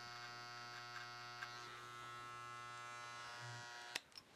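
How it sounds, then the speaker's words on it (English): Electric hair clippers buzz steadily and close while shaving up around a sideburn during a classic business haircut, a constant tonal drone with a few slight shifts and a brief clatter near the end. "Line off the sideburn and shave up."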